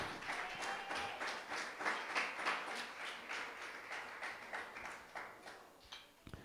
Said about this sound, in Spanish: ¿Alguien da un aplauso al Señor?